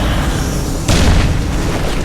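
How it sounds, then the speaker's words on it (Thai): A dull grenade explosion booms briefly in the middle over a constant noisy soundtrack in the video game Crysis 2, loud and close. "ปาระเบิดดักไว้ก่อน"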